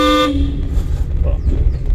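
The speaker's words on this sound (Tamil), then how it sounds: "ஹாரன் அடிச்சிருக்கோம்" A car horn blares once, loud and close, over a rumbling engine and road noise, inside a driving-school car during a lesson.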